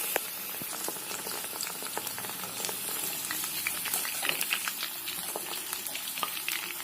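Chicken 65 pieces deep-fry in oil over a low flame, giving a continuous bubbling sizzle full of fine crackling pops. The sound is steady and fairly close, with no voices.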